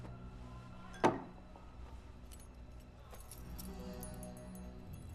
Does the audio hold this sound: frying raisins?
no